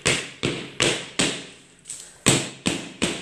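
A cheesecake tin is rapped against the countertop to knock out air bubbles, giving seven sharp, evenly spaced thuds, each followed by a short ringing decay, close and clear with no talk.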